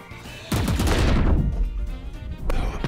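Sniper rifle gunfire in Valorant: a loud close shot with a long booming tail that fades out, followed by another sharp report near the end.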